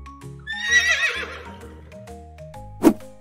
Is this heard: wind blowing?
no